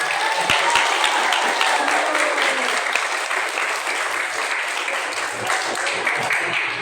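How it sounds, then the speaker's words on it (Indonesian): Audience in a talk session gives a sustained round of applause, thick continuous clapping from a sizable crowd at a steady level throughout. "Tepuk tangan dulu."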